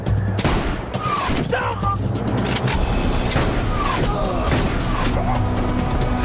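Gunfire bursts in a French-language action film about hostages in the Malian desert, with sharp cracks and booms over a loud, dense background of vehicle rumble and voices.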